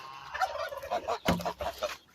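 Several brooding turkeys gobble in quick, overlapping bursts close by, with a sharp burst of sound in the middle.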